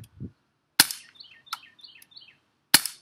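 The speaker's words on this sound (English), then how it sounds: "I'm going to be shooting at a box at a tree" Glock 19 BB gun fired at a box by a tree: two sharp, loud cracks about two seconds apart, with a faint click at the start and birds chirping quietly in between.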